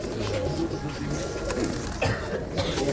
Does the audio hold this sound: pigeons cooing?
yes